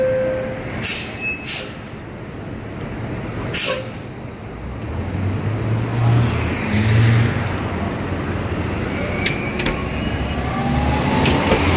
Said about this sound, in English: The next 1031 bus to Yorkville 91 Street via York Avenue is arriving.